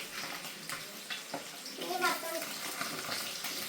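Dishes washed by hand with running water in a home kitchen, a steady splashing and trickling with a few clinks, while people talk over it.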